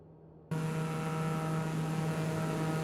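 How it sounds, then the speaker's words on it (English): A Microsoft Flight Simulator airplane on approach lowers its landing gear and flaps, starting with a sudden jump to a steady, loud engine drone and mechanical hum that holds without a break. "So, gear coming out, flaps coming out, everything will slow down."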